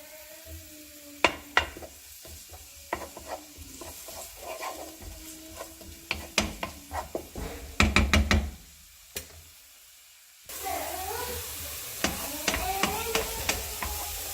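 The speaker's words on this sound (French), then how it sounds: "on va faire revenir le tout dans une casserole avec un petit peu d'huile d'olive" Onion and minced meat cook in a pan with olive oil, stirring and scraping, sizzling under scattered utensil knocks, then a louder, steadier sizzle later on.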